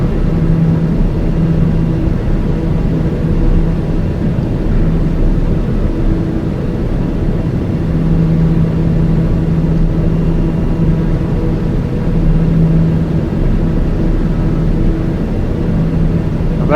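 Steady single-engine turboprop drone of a TBM airplane in level flight inside a flight simulator, a continuous loud hum with a faint tonal whine that holds evenly throughout, no voices over it.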